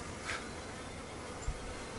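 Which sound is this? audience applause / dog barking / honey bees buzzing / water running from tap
honey bees buzzing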